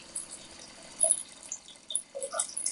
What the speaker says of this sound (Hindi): अच्छा खासा पानी डालना है